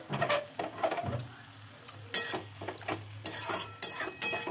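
A spoon scrapes and stirs chalta (elephant apple) pickle in a pan as the juice cooks down, with close, repeated uneven strokes and a soft sizzle, and no talking.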